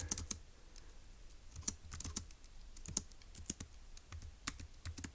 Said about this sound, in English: So let's go ahead and type that up in our notes in section B.